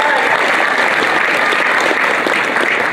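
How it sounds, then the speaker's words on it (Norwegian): Loud, sustained applause from the audience at a Norwegian swing and rock'n'roll championship final, a dense even roar of clapping that holds steady from start to finish. "Gjennom en skikkelig applaus."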